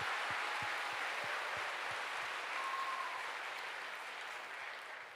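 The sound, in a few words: church congregation applauding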